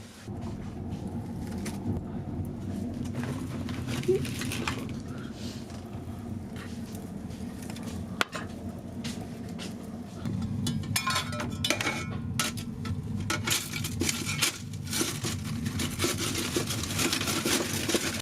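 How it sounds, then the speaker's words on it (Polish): Coal and coal dust mixed with a little used oil, poured into a boiler: a long, steady rushing and gritty rattle that grows denser and louder about halfway through, with scattered clinks and knocks. "wysypuję trochę węgla oraz mieszankę pyłu węglowego, do której dodałem odrobinę zużytego oleju"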